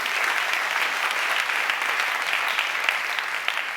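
Steady, dense applause from an audience at an awards announcement ceremony, a continuous even clatter of many hands lasting throughout without pause.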